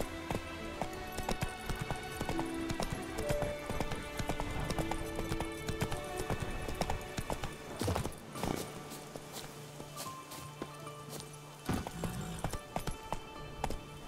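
Horse hooves gallop in steady rapid clip-clop in The Witcher 3: Blood and Wine, continuous and fairly close, with game music and ambience underneath.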